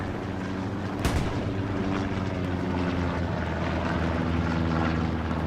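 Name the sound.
recon plane flying over, from the video game Hell Let Loose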